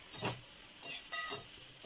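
Small fried bread pieces get turned over in a hot pan: a few soft scraping strokes over a light sizzle, moderately close and fairly quiet, with no voices.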